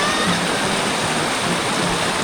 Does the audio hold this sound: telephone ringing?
no